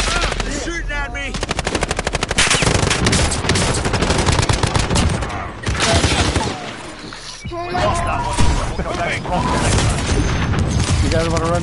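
Enemy gunfire in a PS4 shooter game: loud, dense machine-gun bursts and rapid shots fill the scene almost continuously, with booms and a short lull in the middle, while players talk over the action.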